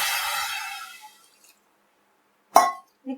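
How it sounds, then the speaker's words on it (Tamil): Water pours into a cooker for chicken soup in a steady splashing stream that fades out after about a second. A short quiet gap follows, then a sharp metallic clink. "ஒரு 2 டம்ளர் தண்ணி ஊற்றிக்கலாங்க."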